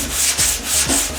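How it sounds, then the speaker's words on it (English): Block sanding 2K build primer on the passenger door of a Triumph Spitfire under restoration, close and loud rasping strokes in a steady back-and-forth rhythm, about three passes, no talking. "a block sanding method with this stuff."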